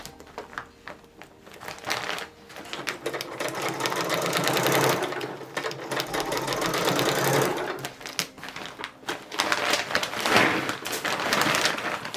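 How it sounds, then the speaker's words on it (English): A sewing machine runs in bursts of rapid, steady stitching, pausing briefly between runs, close and fairly loud with faint fabric rustling. "This fabric was so fun to manipulate in the sewing machine"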